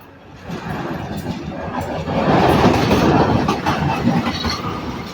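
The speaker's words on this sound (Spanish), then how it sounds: "Ahí viene el tren" A light rail metro-tram passes through a neighbourhood, its rolling rumble swelling from about half a second and growing loudest past midway, with steady clickety-clack wheel rhythm close by and no talk.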